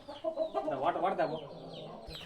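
Native breed chickens cluck at a poultry farm in Nellore district, a steady run of close, moderately loud clucks and calls over about two seconds with no talk.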